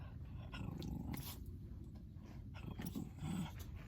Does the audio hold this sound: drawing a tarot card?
no